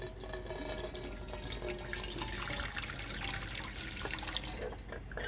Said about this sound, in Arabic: هنزل بشويه شوربه سخنين